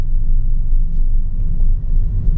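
A Maruti Suzuki XL6 cruises in fifth gear with a slight vibration, giving a loud, steady low engine and road rumble that holds through the whole stretch.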